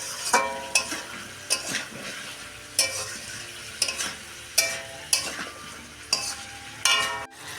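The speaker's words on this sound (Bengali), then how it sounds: "এখনও মাংসটা ভেজে নিচ্ছি।" Meat sizzles in a pan while a spatula stirs it in regular strokes, each scrape and clack rising above a soft steady frying hiss, repeating about every second; no voices.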